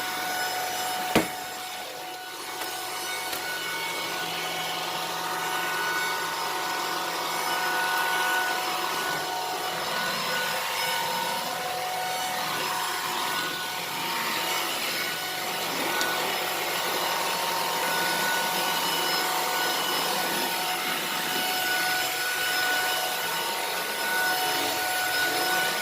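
A Puppyoo A9 cordless stick vacuum runs steadily and close by, a continuous whirring motor hum with a faint high whine that holds nearly level throughout, a single click near the start.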